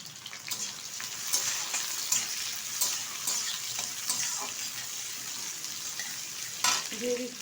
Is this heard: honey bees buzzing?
no